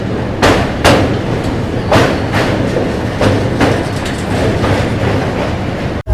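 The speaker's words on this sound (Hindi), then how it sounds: "तो फिलहाल अपनी ट्रेन डिपार्ट कर चुकी है आगरा फोर्ट रेलवे स्टेशन से" An Ajmer–Sealdah SF Express train rolls onward after departing Agra Fort railway station, a loud steady rumble broken by sharp, rhythmic clacks of wheels over rail joints.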